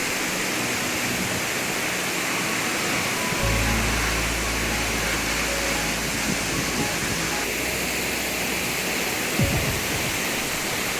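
Diyaluma Falls in Sri Lanka roars as a loud, steady wash of falling water swollen after heavy rain, with a deeper rumble swelling in partway through and continuing under the constant broadband spray.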